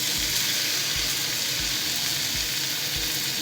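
Slices of tofu fry in a pan with a dense, steady hiss and crackle of hot oil that runs unbroken throughout, joined by faint low knocks, with no one talking.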